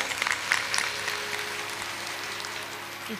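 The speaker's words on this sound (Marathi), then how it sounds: "एकदा या सुंदर अशा झाकी दर्शनासाठी टाळी वाजवूया" An audience claps for a tableau display, a dense burst of applause that starts strong and gradually thins out.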